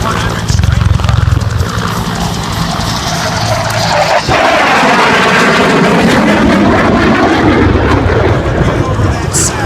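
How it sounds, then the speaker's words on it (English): An F-100 jet fighter roars past with its afterburner lit during a Vietnam War memorial demo at an airshow, a loud sweeping blast that swells and fades, with an announcer talking over it. "the F-100 with a hard burner light at Airshow Center, while he's delivering a strike throw"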